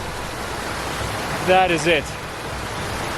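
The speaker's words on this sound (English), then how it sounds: "We've got a waterfall." A mountain waterfall on the trail up Ben Nevis makes a constant, even rush of falling water, close and steady throughout, with someone speaking briefly over it.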